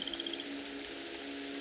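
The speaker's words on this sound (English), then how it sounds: "we can hear it raining" Steady rain falling in a video game, a continuous dense patter with a faint tonal hum underneath and a brief high whistle at the start, with no talk.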